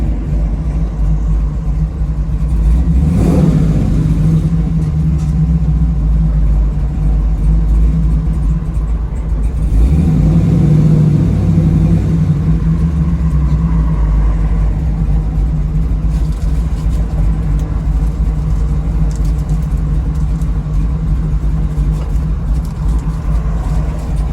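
A 1968 Chevrolet Camaro RS/LS resto mod on a test drive, its engine rumbling steadily and close, swelling in two acceleration surges before settling back to a low cruising drone.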